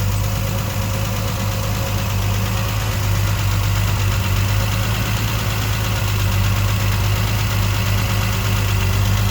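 A 1976 Triumph TR6 engine with triple SU carburetors and its emissions components removed idles steadily up close, a continuous low mechanical rumble with a faint rhythmic knock and no talking.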